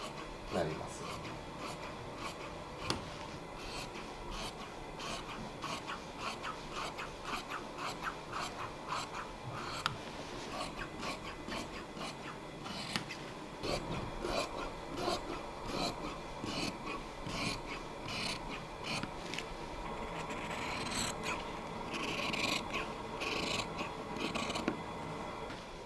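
Necktie fabric and lining being cut by hand with scissors in a tie-making workshop, a long run of close rhythmic snipping and rustling cloth, with quiet speech and breathing underneath.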